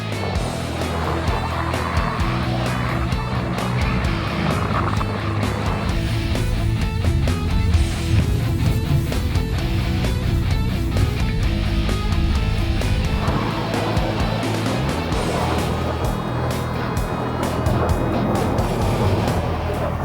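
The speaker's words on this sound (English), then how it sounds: "All right, Tank 400, first drive in China on the snow." A GWM Tank 400 off-roader driving on snow, a steady loud engine and road drone that rises and falls over the stretch, heard from inside with no talking.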